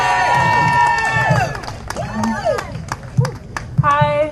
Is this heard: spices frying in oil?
no